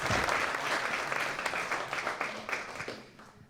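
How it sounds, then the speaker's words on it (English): Audience applause for filmmakers at a documentary screening, a dense, steady wash of clapping from a crowd that slowly thins out toward the end. "let's give our filmmakers one more round of applause for all of that amazing work"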